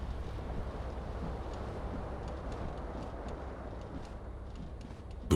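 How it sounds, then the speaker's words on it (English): Cold wind blows through a broken window in the game Disco Elysium, a low, steady rushing roar with a faint airy hiss, continuous and even throughout, with no voices. "The window stands broken in its frame. Cold wind blows in."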